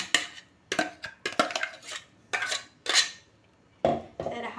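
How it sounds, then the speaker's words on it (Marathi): Mango pulp is whisked in a metal pot, giving sharp scraping clinks in irregular bursts with short pauses between strokes, close and clear without speech. "तर हा मी चांगला फेटून घेणार आहे"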